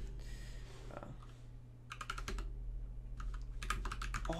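Typing on an Anne Pro 2 keyboard, with two short flurries of crisp key clicks over a steady low room hum, close and quiet.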